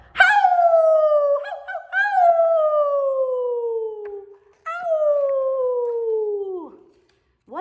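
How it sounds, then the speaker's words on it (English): A coyote's long, wavering howl rises then slowly falls, repeated twice with a short pause between, loud and close, ending in a brief yip. "A coyote."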